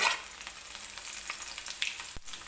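Garlic sizzles in hot oil in a pan, already crackling with mustard seeds and cumin, a close, steady frying hiss with small spits and pops and one brief clatter near the end.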